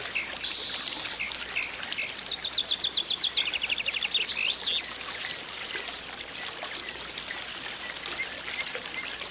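Birds chirp and tweet outdoors, with quick bright calls scattered over a steady background wash that sounds like trickling water.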